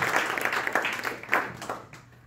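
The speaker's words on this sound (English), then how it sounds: "let's give them a round of applause before we take the questions" Audience at a food tech and biotech investor panel gives the speakers a brief round of applause, a moderate patter of hands that thins out and fades within a couple of seconds.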